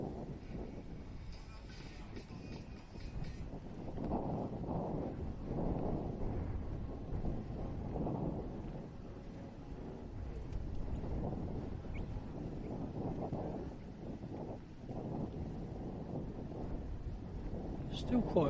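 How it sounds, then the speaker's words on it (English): Steady breezy wind buffets an outdoor microphone at a motorsport hillclimb event, a continuous low rumbling roar with gentle swells and no clear breaks. "Still quite breezy out here"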